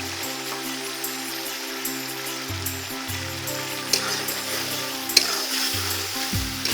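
Small shrimp dropped into a hot pan with cumin paste and ground coriander, a steady bright sizzle and frying crackle with occasional stirring clicks, close and alone.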